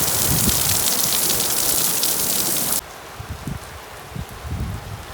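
Steady rain falls on a cabbage garden, a dense even hiss that drops abruptly to a softer patter with scattered drips and low rumbles, no voices.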